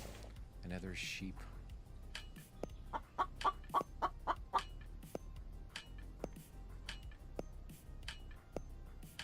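Chickens in a video game give a run of short clucks, a quick evenly spaced burst in the middle with scattered single clucks before and after, fairly close, heard alone over low background hum.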